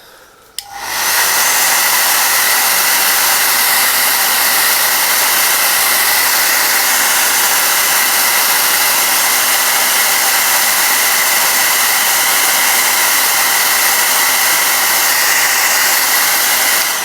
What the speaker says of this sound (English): let's just get that hairdryer